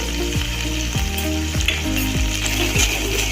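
A chira khichuri mixture of flattened rice with chilli powder and sugar fries loudly in a pan while being stirred. Dense, close sizzling runs throughout, with repeated scraping strokes at a steady rhythm.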